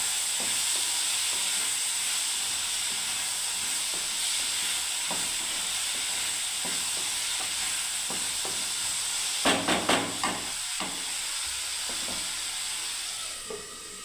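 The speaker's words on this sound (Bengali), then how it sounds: "আবার কাঁচা কলার পোস্ত যেন ভালোভাবে নেড়ে দিই।" Raw banana posto being stirred in a frying pan, a steady soft sizzle with scraping spoon strokes and a few sharper clatters near the middle, no talking.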